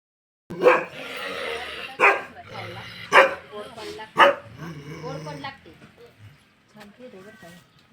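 A dog barks close by in about four sharp, separate barks spaced roughly a second apart, while people talk at a house during a visit.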